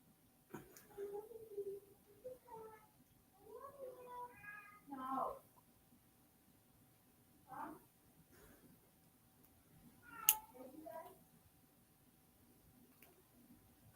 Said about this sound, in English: You're mean to your kitty cat, Caitlin.